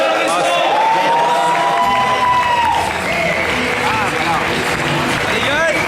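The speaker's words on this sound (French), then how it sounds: "c'est Gaël, sous vos applaudissements." Loud crowd applause and cheering at a slam poetry competition as a performer is introduced, sustained dense clapping with voices and shouts over it.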